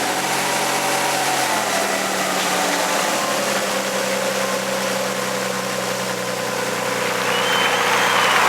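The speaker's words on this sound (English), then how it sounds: "Start the engine." A 1991 Nissan 300ZX engine settles into a steady idle with a low, even drone that holds throughout, fairly loud and alone with no talk over it.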